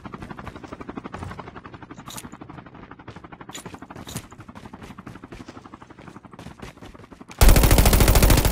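Gunfire and helicopter rotor noise from the Call of Duty video game, with rapid automatic bursts and sharp shots over a steady throb. A loud, dense roar takes over abruptly near the end.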